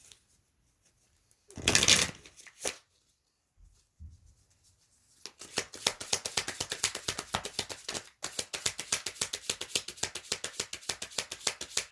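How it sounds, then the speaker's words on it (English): Tarot cards are shuffled in a fast riffling flutter of dense rapid clicks that runs for several seconds after a few isolated taps and a brief rustle, close and fairly quiet. "Every time I shuffle, the cards just fly."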